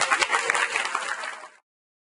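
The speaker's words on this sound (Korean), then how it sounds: "다들 박수 한번 해주세요" Audience applause at a film screening, a brief dense burst of clapping from many hands that cuts off abruptly after about a second and a half.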